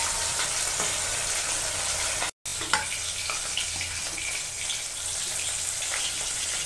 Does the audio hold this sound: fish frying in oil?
yes